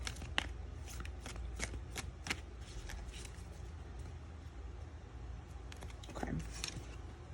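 Tarot cards being shuffled by hand, a soft steady riffling and flicking with repeated crisp snaps, fairly faint and close over a low background hum.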